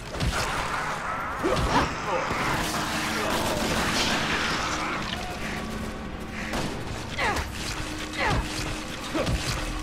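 Resident Evil 6 gameplay gunfire, dense repeated shots and mechanical clatter in a busy, sustained game mix with sharp bursts throughout.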